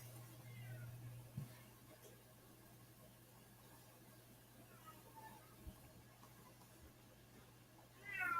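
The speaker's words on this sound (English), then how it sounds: "Bet you can hear my cat" A pet cat meows faintly in a quiet room, a short rising cry near the end after long near-silence.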